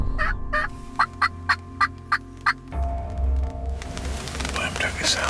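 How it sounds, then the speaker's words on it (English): A run of about seven sharp wild turkey gobbles in quick succession, fairly close, followed by rustling movement and breezy outdoor noise. "Them turkeys sound like they're coming."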